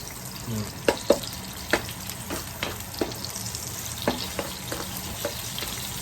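Eggs frying in hot oil in a pan for Thai son-in-law eggs, a close crackling sizzle broken by sharp spitting pops and clicks at irregular intervals.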